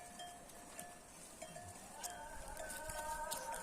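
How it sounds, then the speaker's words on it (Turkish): A flock of sheep grazes in a mountain village with livestock bells, faint tinkling and clanking over a quiet outdoor background, with a few soft knocks. "görüyorsunuz koyunlar"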